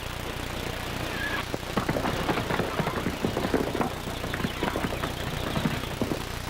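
Horse hooves clip-clop in a brisk, uneven rhythm over a low rumbling background, several sharp hoofbeats per second, fairly close.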